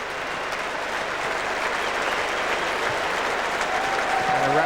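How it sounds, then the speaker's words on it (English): Tottenham supporters in a football stadium give a long, swelling round of applause for Bill Nicholson, a broad crowd roar of clapping that builds slightly toward the end. "And a rapturous round of applause from the Tottenham faithful."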